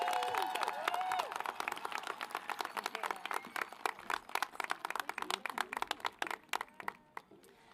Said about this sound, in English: Let's have another round of applause for them, Shanaida and Michaela.